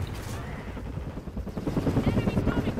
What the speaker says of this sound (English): But, dude, helicopters are annoying.